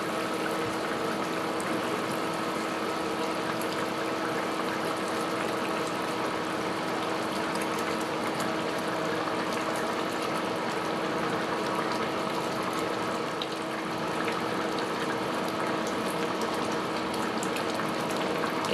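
A gravy with fried bhola fish added bubbles at a steady simmer, a continuous even boil with faint hiss held close by throughout, with no voices.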